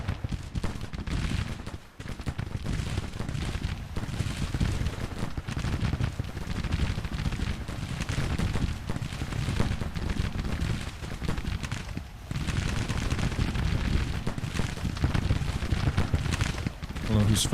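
Massed rifle fire from Civil War regiments in a battle game keeps up a dense, continuous crackle of overlapping shots, loud and close throughout, with a brief lull near the start.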